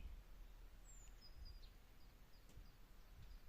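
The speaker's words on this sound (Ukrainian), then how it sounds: "І чуєте, пташечки співають? Це не накладений звук, це насправді так." Faint, thin bird calls, a few high whistled notes and chirps, drift over a quiet outdoor background with low rumble.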